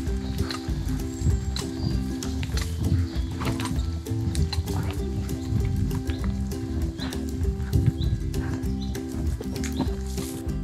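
A freshly shod horse rides along a trail with steady, clip-clopping hooves, and other horses nearby neigh now and then against a constant background hum.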